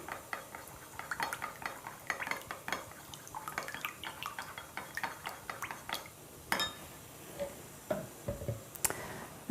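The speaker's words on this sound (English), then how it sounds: "So we'll mix that in." A small utensil clinks and scrapes against a container while aloe vera concentrate is stirred into a homemade lip balm mixture, a run of quick, light taps and clicks, close and moderately quiet.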